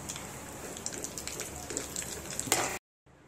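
Almonds and cashews roasting together in a pan for Kashmiri vermicelli kheer, a steady close crackling sizzle with scattered pops that cuts off abruptly near the end, no talking.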